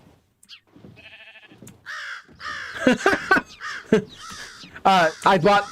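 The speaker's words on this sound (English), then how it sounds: "it's just because we're in the jungle and this bird mod I have is like adding tons of birds" Crows from a Minecraft bird mod caw repeatedly in a jungle setting, loud harsh calls in irregular bursts that grow busier toward the end, with a few softer bird notes early on.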